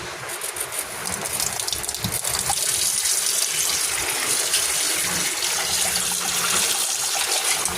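Brown, murky water gushes from a household tap in a strong, steady stream, a close and continuous watery rush heard on its own without talk.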